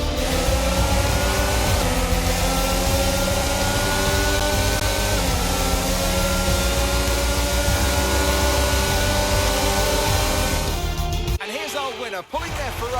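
Ferrari Formula 1 car in a racing video game at the 2022 Australian Grand Prix, a steady loud engine drone pulling into parc fermé, with a commentator talking over it and a brief dip near the end.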